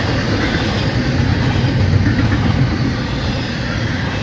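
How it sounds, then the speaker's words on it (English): A Florida East Coast Railway freight train slows near St. Augustine, producing a steady, loud low rumble of rolling wagons and engine throughout. "You can hear the train starting to slow down."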